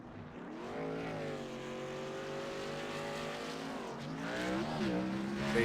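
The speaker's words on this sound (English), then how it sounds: "Got Richard Goodwin on the racetrack, just bringing that car back down onto pit road" Race car engine in a club championship race session, holding a steady harmonic drone with rising and falling pitch as it slows back toward pit road, growing slightly louder near the end, with no talk.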